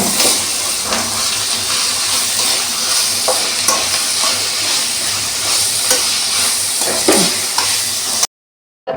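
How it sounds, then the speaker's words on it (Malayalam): Chicken curry masala with green chilli, ginger and garlic sautés in a pan, a loud continuous sizzle and hiss broken by repeated stirring scrapes, ending in a brief silence. "എല്ലാം കൂടെ ഒന്ന് ചേർത്ത് നന്നായിട്ട് വഴറ്റിയെടുക്കാം"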